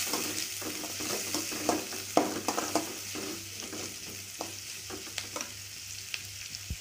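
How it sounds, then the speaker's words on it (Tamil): Onions sauté in a pan as they are cooked for idly kurma, with steady hissing and a run of scraping, clicking stirs from a utensil close by. The clatter is irregular and fairly quiet. "வெங்காயம் நல்லா வதங்கணும்"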